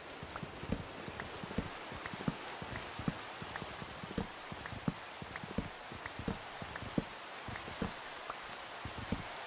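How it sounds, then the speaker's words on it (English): Steady rain mixing real rainfall with Minecraft game rain: a continuous hiss with many sharp droplet taps scattered throughout, close and moderately loud, with no voices. "I think it's raining in real life and in the game, so I'm hearing like double rain right now"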